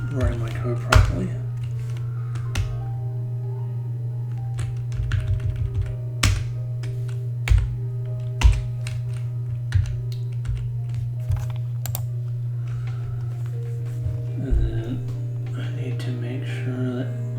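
Code being typed on a computer keyboard, a steady run of close, crisp key clicks with scattered louder thumps from heavier keystrokes, all over a constant low electrical hum.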